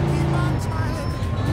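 A car engine revving as it speeds up in the open-world game Mafia 2, a steady loud motor drone under a voice talking over it.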